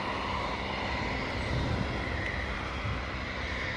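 Aircraft engine drone from a plane passing overhead at a Dambusters memorial site, a steady continuous roar that swells slightly midway, heard alone with no talk.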